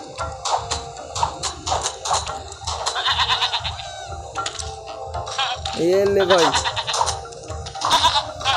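Goat bleats in a mountain climbing video game, a short wavering bleat rising out of busy game noise and excited talk.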